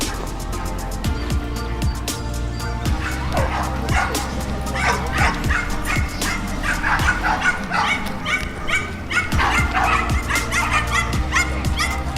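Two dogs barking, yipping and whimpering on a walk, with a poodle mentioned nearby; a busy run of repeated barks and yelps, fairly close and steady throughout.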